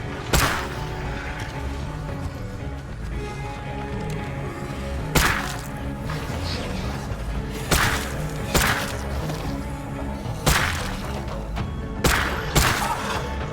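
Gunshots ring out in the zombie survival game State of Decay 2, a series of sharp, loud cracks spaced irregularly over a steady low ambient bed, some shots coming in quick pairs.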